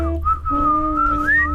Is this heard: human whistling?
yes